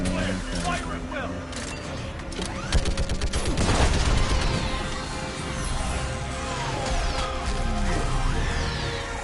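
Sci-fi weapon fire and heavy impacts from a Mass Effect 3 battle against a Reaper, dense bursts of shots and crashing blasts layered with game music and voiced dialogue.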